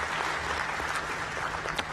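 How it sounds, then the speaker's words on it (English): Members at an NSSF annual meeting applaud, producing a brief, dense burst of clapping from a crowd at a steady, fairly loud level. "big hand clap for doing an amazing job"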